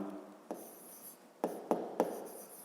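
A pen writing by hand on paper during a fifth-grade maths division exercise, faint scratching with several short sharp strokes and taps, quiet and close, no talking.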